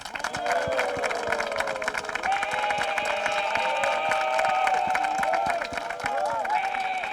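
A studio audience applauding and cheering for the FC San Pedro football team, champions of the Ivorian league, on an evening sports TV special; dense sustained clapping and crowd noise over a steady hum, with voices mixed into the din.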